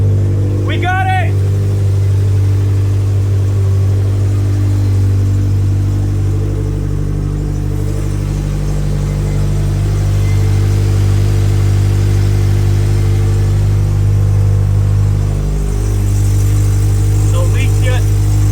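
A Subaru STi engine idling steadily just after its first start following a rebuild, a loud, continuous low drone with a constant hum, close by, with a brief voice near the start and end.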